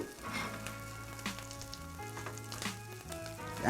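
Corned beef hash fries in a pan with a soft, steady sizzle and crackle, faint and partly masked by background music, with no talking.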